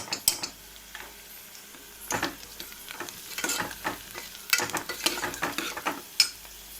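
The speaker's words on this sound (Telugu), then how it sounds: "పచ్చివాసన పోయేదాకా ఫ్రై చేసుకుందాము" Golden onions fry with turmeric and ginger-garlic paste in a pan, a low sizzle under frequent close scraping stirs and clicks of a spoon against the pan in uneven bursts.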